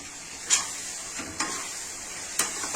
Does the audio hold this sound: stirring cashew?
yes